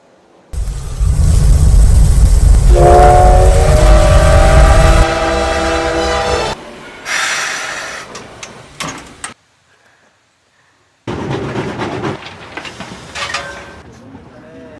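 A coal-powered steam locomotive's loud horn blares over heavy rumbling rail noise, then clanks and metallic knocks follow, a brief silence, and the rolling noise resumes.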